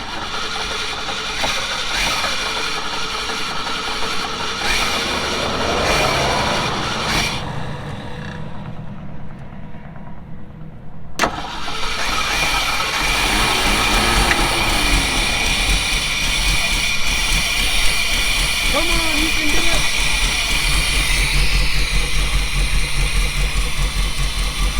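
An off-road vehicle prepped for an off-road games event, running on year-old gas, is fired up; its engine rumbles steadily, briefly dips in the middle, then returns louder and sustained, with no talking.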